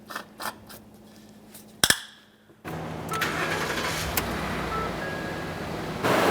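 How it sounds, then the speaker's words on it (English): Ford F-150 with a 5.0L V8 engine starting up, with a brief crank and catch, then a steady idle with cooling fans running, close and moderately loud. "I can hear the cooling fans turned on."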